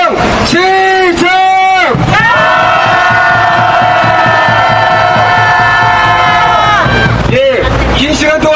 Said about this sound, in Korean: 힘찬 박수와 함성으로 기자회견을 모두 마치겠습니다